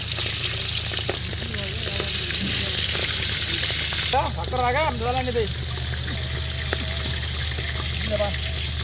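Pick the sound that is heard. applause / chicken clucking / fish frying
fish frying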